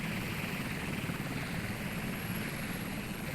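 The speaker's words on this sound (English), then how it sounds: "Helicopter coming to a hover." A helicopter hovers in the naval warfare game Sea Power, giving a steady, loud rotor and engine roar with broadband wash and a faint high whine, heard alone.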